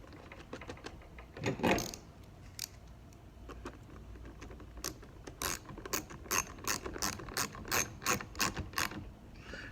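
A ratchet tightens a nut during a fencing spring repair, a close run of crisp rapid clicks that settles into an even rhythmic series of ratchet strokes toward the end.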